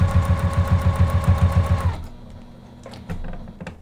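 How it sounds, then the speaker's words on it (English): A sewing machine stitches a quilt-as-you-go pot holder in a fast, steady rhythmic whir for about two seconds, then stops, leaving quiet handling clicks and fabric rustles. "lift our presser foot, rotate, put our presser foot back down and keep sewing"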